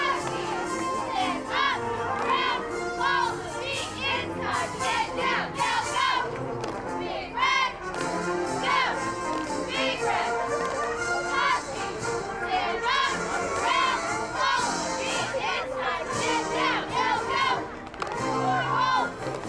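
High school cheerleaders and children from the Husky Club and soccer team shout and cheer together in a dense, steady crowd din of young voices, with occasional thumps, continuing for nearly twenty seconds.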